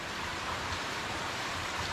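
Torrential rain pours steadily in an urban neighbourhood of paved streets and sidewalks, a dense unbroken hiss of water that stays loud and even from start to finish.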